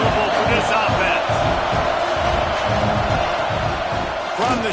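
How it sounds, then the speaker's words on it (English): A college football stadium crowd at an FSU vs MSU game roars continuously, a dense, steady wash of noise filling the whole clip, with a voice faintly over it. "This crowd trying to make life miserable for this offense."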